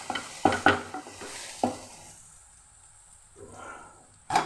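Food fries in a pan in a home kitchen, with several sharp stirring scrapes and clatters over a low sizzle that eases into a quieter hiss.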